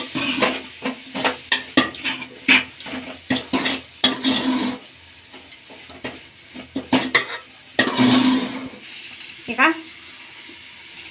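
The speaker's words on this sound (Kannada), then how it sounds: "ಈಗ ಅಚ್ಚು ಪುಡಿ ಕೂಡ ಹಾಕ್ಕೊಂಡು ಮತ್ತೆ ಫ್ರೈ ಮಾಡ್ಕೊಳ್ಳೋಣ ಇದನ್ನೆಲ್ಲ ಮಿಕ್ಸ್ ಮಾಡಿ" Spices and chili powder frying in a hot tempering of oil while a spoon stirs and scrapes the pan, for a Bihari dal and wheat-dough breakfast dish; repeated close scraping strokes with a steady sizzle, a brief pause, then more stirring and sizzling.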